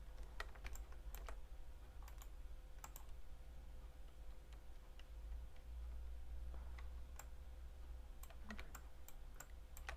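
A computer keyboard is typed on during Photoshop editing work, giving quiet, scattered key clicks in short bursts and single taps over a low steady room hum.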